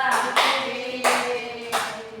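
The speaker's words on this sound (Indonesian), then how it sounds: "Tepuk tangan untuk kelompok 2" Classroom applause for a student group during a microteaching debate lesson, three bursts of clapping from several people, fairly close and moderately loud with brief pauses between.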